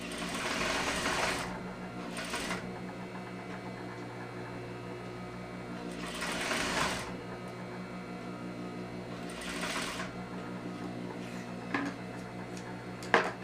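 A sewing machine stitches a separating zipper with a facing in several short, quiet runs separated by pauses, close by and with little talk.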